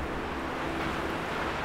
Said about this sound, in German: Wir warten jetzt den Wind kurz ab.